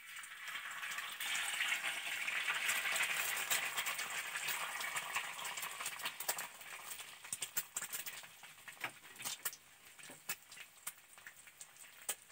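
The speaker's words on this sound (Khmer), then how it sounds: "ចៀនពងទា" Duck eggs frying in hot cooking oil, a dense close crackle and sputter that is loudest early on, then thins into scattered sharp pops and spits, with no talking.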